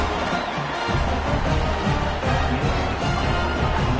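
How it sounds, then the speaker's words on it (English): A stadium crowd at a college football game between NC State and FSU roars continuously after a score, a dense, loud wash of cheering and shouting that holds steady throughout. "this crowd is buzzing after that last score"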